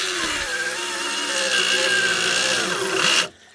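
A saw cuts through hornbeam wood, its loud buzzing tone sagging and wavering as the blade bogs down, then stops abruptly near the end.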